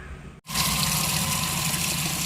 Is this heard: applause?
no